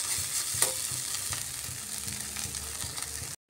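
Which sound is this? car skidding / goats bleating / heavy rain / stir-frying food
stir-frying food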